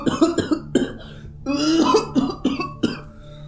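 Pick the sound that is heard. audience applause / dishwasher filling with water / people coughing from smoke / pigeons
people coughing from smoke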